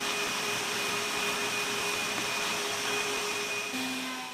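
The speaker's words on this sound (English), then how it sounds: "Here I'm taking a 3/8 round over on both sides of a piece of wood with no dust collection connected" A router fitted with a 3/8-inch round-over bit on a table-saw router table fence cuts along wood with no dust collection attached, giving a continuous high-pitched motor whine and steady cutting roar close by.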